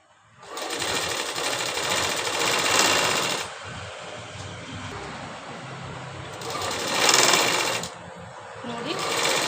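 A sewing machine stitches through a garment's lining in long continuous runs, loud and close, easing off briefly between bursts of steady mechanical whirring.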